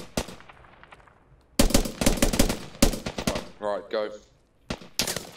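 Bursts of rapid automatic gunfire from a multiplayer shooter video game, loud and close in several separated volleys, with players talking in between shots.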